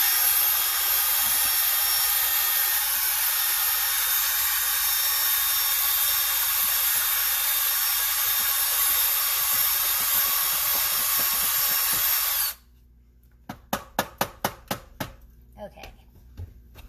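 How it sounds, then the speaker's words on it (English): A high-speed mixer homogenizes ceramic glaze with a loud, steady, high-pitched whir for about twelve seconds. It stops abruptly and is followed by a few sharp clicks and knocks. "So after stirring, I always high-speed mix."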